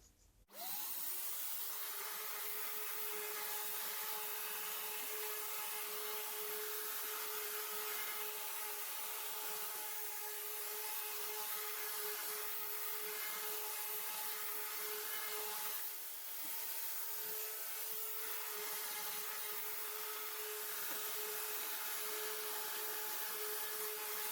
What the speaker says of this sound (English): It's a bit mucky, so I'm just going to quickly lightly sand it